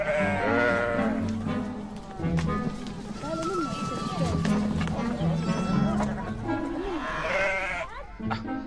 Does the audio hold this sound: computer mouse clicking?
no